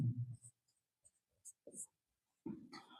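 Handwriting while jotting down x and y coordinates to graph a linear equation in two variables: a few short, scratchy strokes in quick bursts with pauses between them, faint and close.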